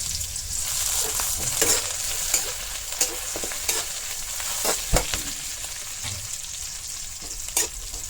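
Two bay leaves frying in hot oil in a rustic Bengali village kitchen, a steady close sizzle with scattered sharp crackles and pops and occasional stirring, no voices.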